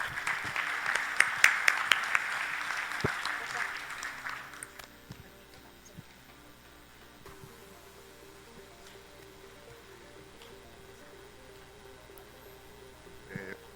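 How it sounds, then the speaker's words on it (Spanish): An audience at a medical conference applauds a doctor after his talk: dense, steady clapping for about four seconds, then fading into a quiet room with faint shuffling. "un aplauso por favor para el doctor"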